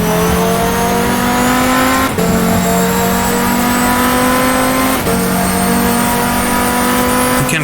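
Race car in GTR2 pulling out of the pit lane and heading uphill, its engine loud and close in a sustained high whine that climbs through gears, dipping briefly at two upshifts.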